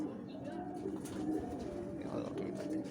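Pigeons coo in a repeated low, soft rhythm against steady background noise, with faint voices and other birds mixed in around a bird-keeping gathering.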